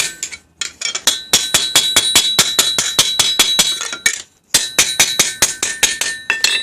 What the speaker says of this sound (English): It's just a matter of hammering them flat down now.